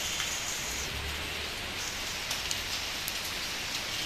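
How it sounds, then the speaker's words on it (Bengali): Rain falls steadily in a dense, even hiss of drops hitting surfaces, close and continuous with no pauses, and no one speaks. "তো বৃষ্টি শুরু হয়ে গেল আবার"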